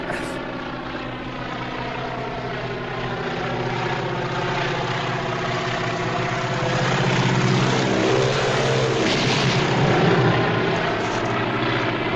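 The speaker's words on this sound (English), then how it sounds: "A plane. It's dusting corn where there ain't no corn." Propeller-driven crop-dusting plane drones overhead, its engine a steady harmonic hum that swells slightly louder as it passes near, with no voices.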